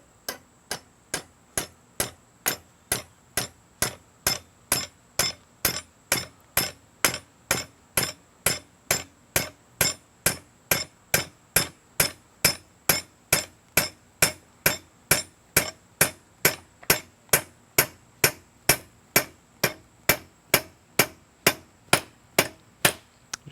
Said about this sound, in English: I just hammer it down